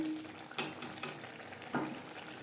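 Spice paste for a Bengali doi katla fish curry frying in a pan on a low-medium flame: a soft, steady sizzle with a few sharp scrapes and clinks of a stirring spoon against the pan.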